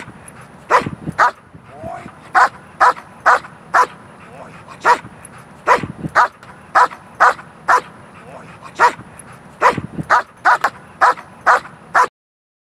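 Executive protection dogs bark in a loud, close chorus, about twenty sharp barks in uneven bursts over twelve seconds, with yips and whimpers between them.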